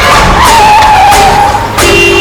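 A car driven recklessly roars close and loud, its engine whining and shifting pitch, with a brief tyre-skid edge and a jump in engine note near the end.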